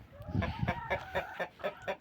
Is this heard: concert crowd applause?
no